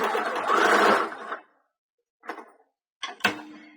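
A sewing machine stitching fabric for a heart-shaped ice pack, running in a close, loud burst of about a second and a half, then falling silent before two short ticking clicks of the mechanism.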